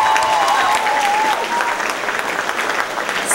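Audience at a school cultural gala awards ceremony applauds loudly for an improv team coach, a thick continuous burst of clapping that softens slightly partway through.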